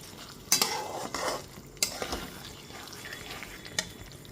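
Fried paneer pieces are stirred into masala in a pan for a kasuri methi paneer dish, with a few sharp utensil scrapes and clinks against the pan amid low sizzling, close and quiet, with no speech.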